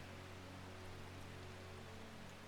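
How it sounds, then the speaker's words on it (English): Rain falling in Strange Horticulture: a soft, steady wash of rainfall with no distinct drops, faint and continuous throughout, with a low constant hum underneath and no talking. "Hey, it's raining."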